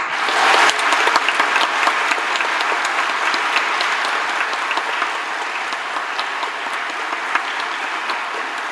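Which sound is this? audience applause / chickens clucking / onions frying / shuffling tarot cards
audience applause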